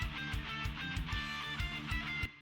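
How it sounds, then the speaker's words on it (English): A distorted electric guitar lead doubled an octave lower by a second guitar, playing over driving drums with regular kick hits in a dense rock mix for an anime-style opening. "So I added a second guitar that's just the same thing but an octave lower."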